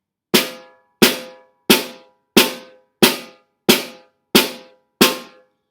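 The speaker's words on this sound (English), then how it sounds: "The next rudiment we will utilize is called a double stroke roll, which is 2 rights and then 2 lefts" Eight evenly spaced, separate drum strokes from a double stroke roll played two rights then two lefts, each a crisp near hit with a short ringing tail, slow and unaccompanied.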